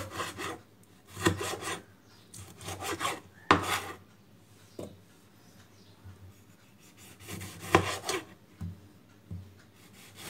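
Onion, tomato, garlic and ginger are being ground together into a fine paste in a home kitchen. The sound comes as several bursts of coarse grinding with short quiet gaps between them.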